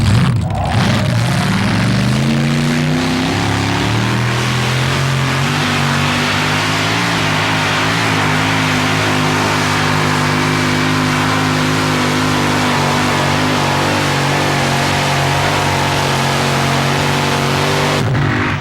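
Alcohol-burning 512 cubic inch big block Chevrolet in a monster truck at a 1987 TNT event in Fort Wayne, roaring at a sustained high pitch for the whole stretch, loud and close with steady revving.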